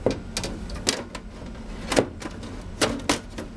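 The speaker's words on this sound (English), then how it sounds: "just go ahead and put your case back together" Computer case panels being refitted after a Galaxy MDT GeForce GT210 graphics card is installed, giving a few scattered clicks and clunks with short pauses between them, fairly close.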